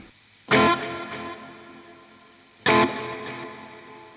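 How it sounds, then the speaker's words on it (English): Two strummed electric guitar chords in the style of Hank Marvin, each ringing out loudly and decaying slowly under heavy reverb and effects, the second struck about two seconds after the first. "We can afford a little bit more reverb on this one."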